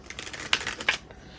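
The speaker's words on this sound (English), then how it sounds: "I really love the way these shuffle" Tarot cards from a fortune card deck being shuffled, a quick run of crisp riffling flutters with two sharper snaps, close and fairly quiet, ending in near silence.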